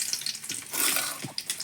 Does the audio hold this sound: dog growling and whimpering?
no